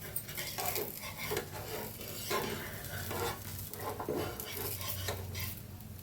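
A dosa roasts on a hot pan, making a steady crackling sizzle with scattered scrapes and clinks of a utensil against the metal, close and continuous, with no talking.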